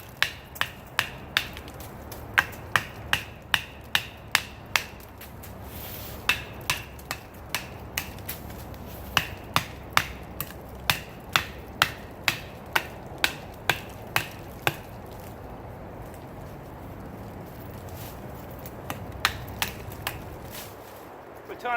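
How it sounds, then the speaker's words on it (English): Sharp, regular cracks of a Gerber Strongarm knife being batoned through wood, with many crisp strikes falling about every half second and a brief pause partway before the strikes resume. "I do a lot of batoning with mine when I camp and everything"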